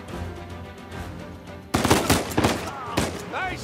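Sharp burst of automatic machine-gun fire in the action game Uncharted 4, starting abruptly after a quieter stretch with a rattling spray of shots near and loud, with short voice fragments mixed in.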